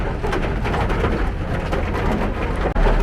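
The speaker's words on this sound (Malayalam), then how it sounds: "മഴ വീണു" Steady rain pours down near a temple in Trivandrum, a dense continuous hiss with low rumble, loud and close and unbroken for the whole stretch, with no talking.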